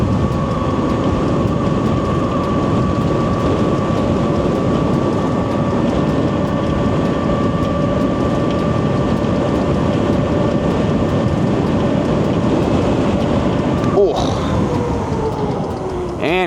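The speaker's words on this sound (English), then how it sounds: "I'm just gonna pin this throttle till the end of the road." Happyrun G-300 Pro electric dirt bike held at full throttle down a road, a steady loud whine with a constant high motor tone over rushing wind and road noise, running continuously until a brief disturbance near the end.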